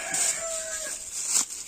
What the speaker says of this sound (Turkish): Tavukların horozun sesinden de pek rahat bir çalışma yapamıyoruz